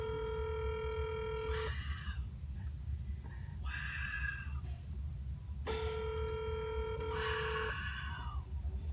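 Phone line ringing repeatedly during a prank call to fast-food restaurants, with long steady ring tones separated by pauses and a warbling tone between, over a constant low background hum.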